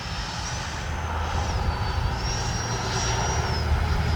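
An FMS Integral 80mm Sharky RC electric ducted-fan jet makes a low pass, its loud, steady whine rising and falling slightly as it passes close by, with no voices.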